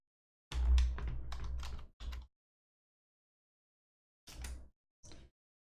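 Keystrokes on a computer keyboard during a GPU passthrough setup on Ubuntu with KVM: a quick flurry of close, crisp taps, a pause, then two short bursts of typing in an otherwise quiet room.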